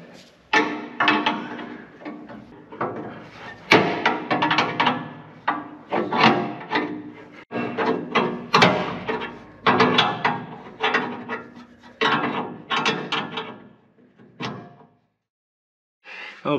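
A wrench works a nut loose on a Powermatic 60A jointer, producing a long run of close, rhythmic scraping and ratcheting strokes, one after another, with short gaps and no speech.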